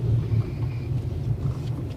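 Trucks near a small park in Retreat, St Thomas, Jamaica, give off a steady low rumble, a continuous engine drone at moderate distance with no other sound standing out.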